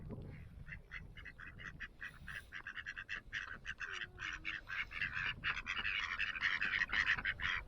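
Ducks and geese at a pond in Curragh Chase Forest Park honk and quack in rapid, overlapping bursts while being fed. The calls are fairly faint and grow busier and more constant toward the end.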